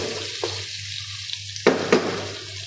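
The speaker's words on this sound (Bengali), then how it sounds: "এই দেখেন কুচি টমেটোগুলোকে গরম করে একদম মিশিয়ে নিতে হবে" Chopped tomatoes heat and get stirred in a pan in a home kitchen, a steady low sizzle broken by a few sharp scraping knocks of the spoon against the pan.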